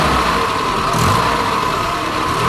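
Old carbureted car engine idling close by, a steady loud mid-range drone with a slight swell near the middle, no speech.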